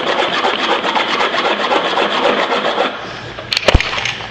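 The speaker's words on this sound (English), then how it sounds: "And after extensive filing, I finally have this." A rasp files a wooden robot part with steady, loud, rough scraping strokes for about three seconds, then the rasping stops and a few brief clattering knocks follow.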